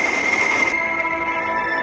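A train at a railway station gives off a steady, loud rolling rumble with high metallic wheel squeal running throughout, and no voices.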